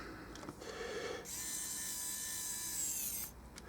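A small electric screwdriver whirs steadily for about two seconds as it drives tiny screws into a BT 6000 baby monitor, the motor hum close and even, with faint clicks before and after.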